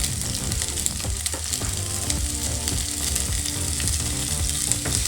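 Coriander leaves and spices fry in a pan for a bean masala curry, giving a steady dense sizzle with occasional stirring scrapes, close and continuous with no talk.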